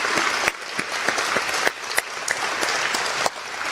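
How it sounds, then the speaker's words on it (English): Audience applause at an Alpha Chi honor society induction ceremony: steady, dense clapping from a crowd filling the room throughout, loud and sustained with no voices over it. "Can we just get one massive, loud round of applause once again for what it took to be here today?"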